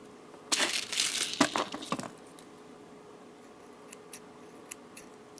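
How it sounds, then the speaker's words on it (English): Beading threads for a seed bead necklace are snipped in a quick, close cluster of sharp cuts, followed by a few faint scattered ticks. "I'll cut the threads here."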